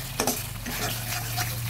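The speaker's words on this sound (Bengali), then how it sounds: "কাজু সর্ষে দেওয়ার পর ভালোভাবে কিন্তু নাড়তে হবে" A cashew and mustard paste sizzles in hot oil while a spoon stirs it, with a close, steady frying hiss and a few scraping strokes against the pan.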